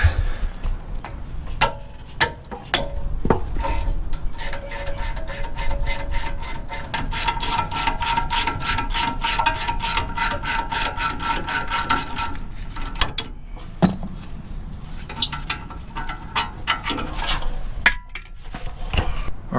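Ratchet wrench working on a car's brake caliper and rotor during wheel spacer repair: a long run of steady, rapid clicking close by, with metallic clinks and knocks around it and no talk.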